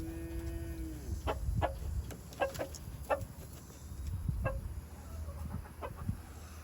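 Bantam chickens clucking in a farmyard, with scattered short clucks and calls over a low rumbling background, a drawn-out lower animal call at the start, nearby and moderately loud.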